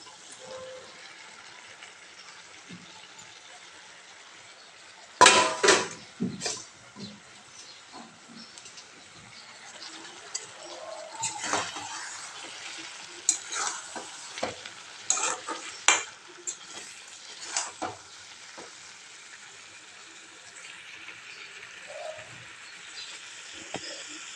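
Mushrooms stir-frying in a pan, with a steady sizzle broken by scraping and clattering bursts of stirring spoon against the pan, close and fairly loud.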